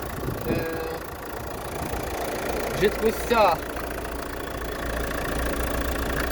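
A new car engine idles with a steady low rumble while someone talks over it nearby, a few short sharper sounds rising briefly midway.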